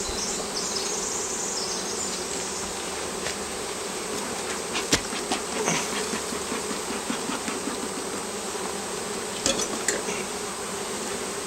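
Honeybees buzz in a dense, steady drone throughout an open hive inspection on a warm day, close and continuous, with a couple of brief clicks and knocks from handling the frames and no talking.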